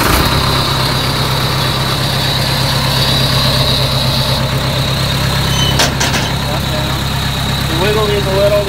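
A Case 1840 Uni-Loader skid steer engine idles steadily, loud and close with a constant low throbbing hum, joined by a couple of brief clanks near the end.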